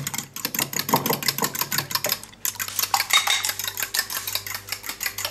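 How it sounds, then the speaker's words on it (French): A spoon stirs liquid crème fraîche into a mixture for a northern French sugar tart, giving steady, rapid scraping and clinking against the bowl, close and fairly loud, with a short pause midway and no talking. "On mélange bien"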